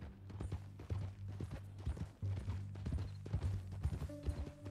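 Horse hooves clip-clop at a steady walking rhythm in Red Dead Redemption 2, close and moderately loud, with a low rumble of game ambience underneath.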